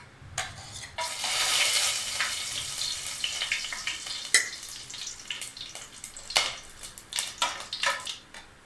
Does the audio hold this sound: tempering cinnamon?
yes